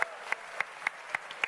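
Applause at the Frontier Expo 2017 main stage presentation: a short run of evenly spaced, crisp handclaps, fairly faint and regular, with no crowd roar or voices.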